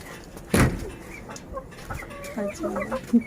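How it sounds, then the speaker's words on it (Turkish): Hens in a rooftop coop on a terrace give several close clucks and short calls, one louder squawk early on, with no one talking. "Müzeyyen ablanın tavuk kümesi bile var."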